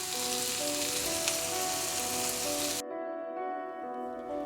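Chicken tikka pieces on skewers sizzling as they cook for biryani, a loud, dense hiss and crackle that drops sharply about three seconds in to a quieter sizzle with a faint tonal hum, no speech.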